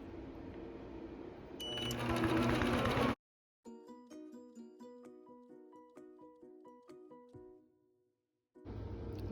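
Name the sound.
Intelliquilter computerized quilting machine stitching a quilt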